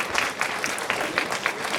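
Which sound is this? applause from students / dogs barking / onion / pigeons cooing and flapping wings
applause from students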